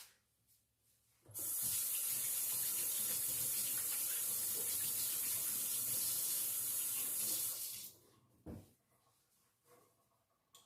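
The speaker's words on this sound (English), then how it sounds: "I'm going to go rinse my hands really quick" A water tap runs while hands are rinsed, making a steady, close rushing hiss for about six seconds before cutting off, followed by faint handling noises.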